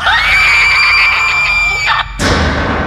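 A woman's and a man's screams blend into one long, loud, piercing cry that holds steady, then bends and breaks off, followed by a sudden harsh burst of noise.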